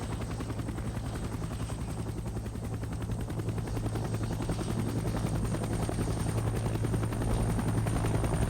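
A firefighting helicopter carrying a 400-gallon Bambi bucket slung underneath, its rotor chopping in a rapid, steady rhythm with a constant engine whine, loud and close and growing slightly louder toward the end.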